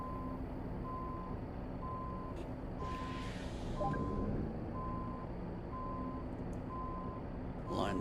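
A truck reverses into a parking spot in American Truck Simulator, with a steady series of backup beeps at an even pace over a low engine idle. A brief hiss and some knocks come partway through.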